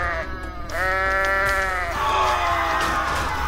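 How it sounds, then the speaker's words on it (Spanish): A goat in Goat Simulator lets out loud, drawn-out bleating screams of terror, one long wavering cry after another, close and alone over a steady game background hum. "¿Qué onda con esos gritos de terror de la cabra?"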